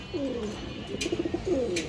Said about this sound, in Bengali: দেখেন দর্শক কবুতরটা